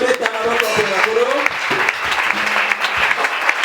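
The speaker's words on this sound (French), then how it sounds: "Acclamons pour le Seigneur." A church congregation bursts into loud, sustained applause and cheering for the Lord, close and full, with voices calling out over the clapping.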